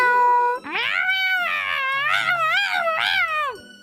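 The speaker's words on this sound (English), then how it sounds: "A kitten? Why is there a kitten in the yard?" A kitten in a yard gives a run of high, wavering meows, close and loud, each cry rising and bending in pitch, with a short quiet gap before the first long call.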